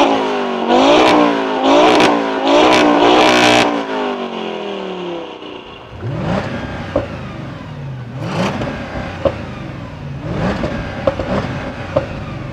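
Several loud engine revs from a 770 hp Audi S8 and a Golf R with an RS3 engine swap rise and fall in quick succession. Deeper engines then rumble and blip their throttles with sharp, punchy surges.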